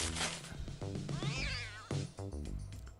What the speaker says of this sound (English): That was a meow.